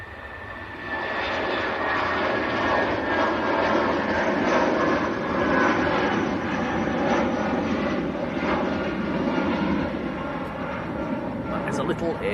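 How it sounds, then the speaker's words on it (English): A British Airways Airbus A319 jet roars steadily at an airport on a grey, murky day, its engine noise rising in and holding loud, with someone talking over it. "this is BA going back down to Heathrow"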